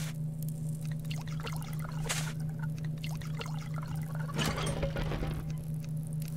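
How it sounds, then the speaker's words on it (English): Water pouring and trickling onto cotton-seed plants in the video game Subsistence, a steady liquid stream over a constant low hum, close and moderately loud. "And we need to water those guys too,"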